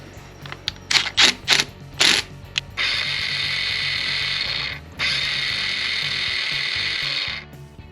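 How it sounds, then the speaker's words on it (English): A starter motor spins a small flywheel in a garage, opening with several short ratcheting bursts before settling into a loud, steady whirring drone that briefly dips and resumes until it cuts off. "So the starter is spinning this little mini flywheel."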